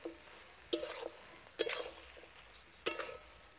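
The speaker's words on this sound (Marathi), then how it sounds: "परत थोडंसं मीठ टाकून घेऊ आणि एकदा 1 मिनिटासाठी परतून घेऊ" Aloo gobi gosht is sautéed in a pan, with three distinct scraping stirs of a spatula, each a sharp stroke that trails off, all fairly quiet.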